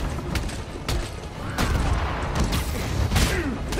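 Gunfire and booming blasts in the video game Spider-Man: Miles Morales, loud dense bursts of shots and impacts layered over a constant rumble of action.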